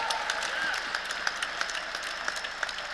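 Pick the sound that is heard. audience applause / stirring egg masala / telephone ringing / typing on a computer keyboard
audience applause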